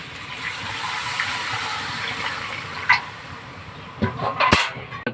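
Water is poured into a pan of potato and green banana curry cooked only with five-spice seeding, a steady broad pouring wash lasting several seconds, close and moderately loud, ending with a few sharp clatters.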